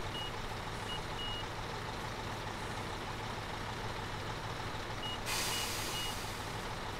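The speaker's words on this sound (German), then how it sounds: "Also, dann fahren wir mal mit dem LKW hier" Truck slowly backing up to couple a trailer in Construction Simulator 2015, with a steady engine rumble under intermittent high reversing beeps and a brief hiss of an air brake near the end.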